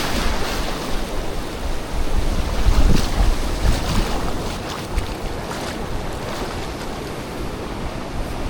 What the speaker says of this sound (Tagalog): Nakapasok na yung high tide, tsaka malalaki ang alon, no?